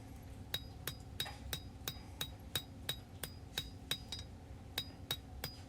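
A hammer striking hot steel over the edge of an anvil while forging a knife by hand, a steady series of about sixteen bright ringing blows, evenly spaced and fairly close.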